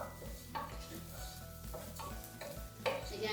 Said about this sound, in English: And we cook off the rice for a couple of minutes